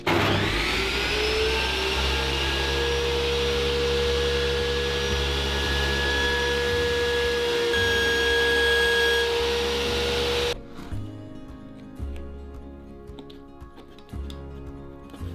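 A power tool cuts a wooden piece in half during a concrete-to-laminate floor job, a loud steady motor whine that runs for about ten seconds, then cuts off abruptly and leaves quieter clatter.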